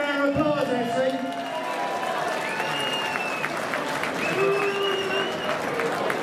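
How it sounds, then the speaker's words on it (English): An audience at a charity boxing match claps steadily throughout, with voices calling out over the applause. "Let's give them a round of applause, Essie."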